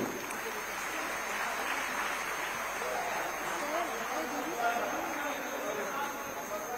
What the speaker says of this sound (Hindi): दीदी पर बढ़िया ताली और अभिवादन